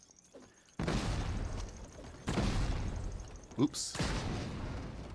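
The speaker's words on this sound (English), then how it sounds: "Remember, thermal detonators are powerful." Thermal detonator grenades explode in the video game Craftopia: three loud broadband blasts, each with a long decaying rumble, come in close succession while a player speaks briefly between them.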